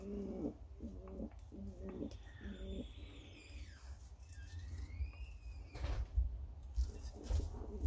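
Pet birds in a loft coo in soft, repeated throaty phrases up close, followed by thin chirps and whistles and a little rustling and shuffling.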